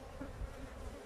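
Honeybees buzz aggressively around an opened three-storey hive during a honey-super check, a dense, close, continuous droning hum lasting about a second.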